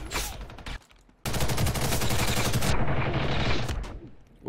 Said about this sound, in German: Ja, Granate.